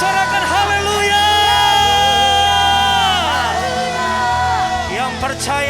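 A church congregation at a Sunday worship service cheers and shouts in praise, a loud sustained crowd roar with high whooping voices rising over a droning musical background throughout.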